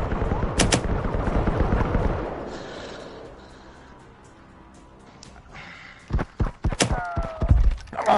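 Gunfire in the shooter Firewall Zero Hour: loud bursts of shots in the opening two seconds, then a quieter lull, then sharp cracks and bursts of shooting again near the end.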